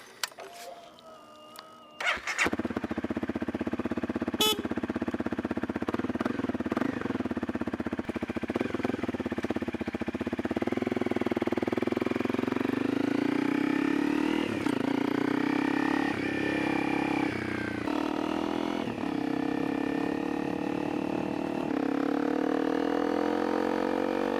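A 2017 Honda CRF250L motorcycle engine starts after a few clicks and settles into a steady, close running note, with slight rises and falls in pitch as the throttle is worked. A voice speaks faintly near the start.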